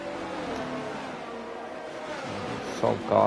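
Racing car engines in an F1 video game at Abu Dhabi, a steady droning whine with rising revs near the end, heard continuously under a commentator's talk.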